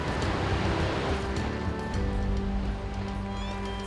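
Gentle sea waves wash ashore on a beach at sunset, a soft, continuous surf hiss with low rumbling swells, close and steady, while faint tonal sounds sit beneath.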